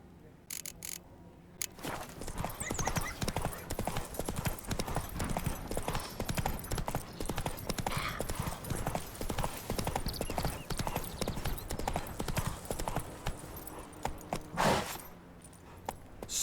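Horse hooves clip-clop steadily at a walk in the video game The Witcher Wild Hunt, a close, continuous rhythmic clatter with a brief whinny-like burst near the end.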